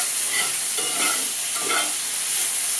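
Sizzling potatoes, bacon and onion being stirred in a hot skillet, a steady frying hiss with a few soft scraping strokes of the utensil, close and continuous, no voices.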